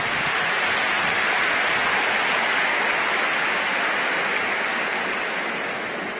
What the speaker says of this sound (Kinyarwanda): Twongere tubashimire cyane tubaha amashyi kwayo